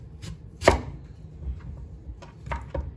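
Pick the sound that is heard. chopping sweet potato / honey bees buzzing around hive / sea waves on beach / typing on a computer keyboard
chopping sweet potato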